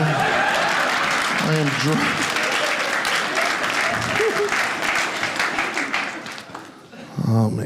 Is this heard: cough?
no